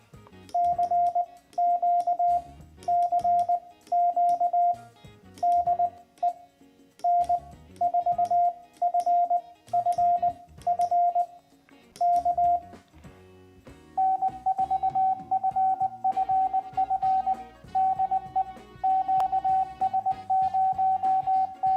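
A Morse code CW exchange with the VBand QSO bot: clean, steady single-pitch tone beeps keyed in rhythmic bursts of dots and dashes, with a second, slightly higher-pitched sender answering later, no talking.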